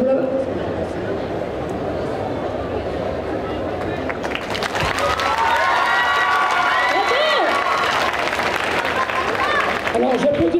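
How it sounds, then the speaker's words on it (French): Audience at a cosplay show bursting into applause and cheering, starting as a murmuring crowd and swelling midway into loud clapping with shouts and whistles from the stands. "Alors j'applaudis la presta"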